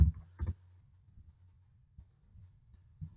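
A few quick clicks from a computer keyboard while a search term is typed, two sharp taps near the start and lighter, scattered taps after, close and quiet.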